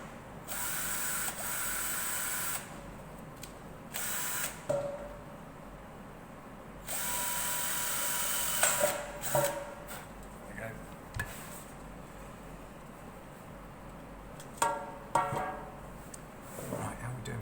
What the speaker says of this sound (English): Do the drilling on there as well.